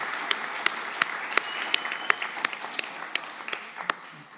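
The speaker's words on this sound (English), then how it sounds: "Would you stand up so we can give you a proper round of applause?" An audience at an art symposium gives a round of applause, a light, thin clapping from a modest crowd with a few sharp individual claps standing out in a loose, regular rhythm.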